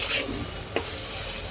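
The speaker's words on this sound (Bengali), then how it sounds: "লবণটা দেওয়ার পর এইবার আবার সুন্দর করে মিক্স করে দেব।" Shrimp with salt stirred in a frying pan gives a close sizzle and a scraping stir, with a single sharp clink partway through the short stretch and no talk.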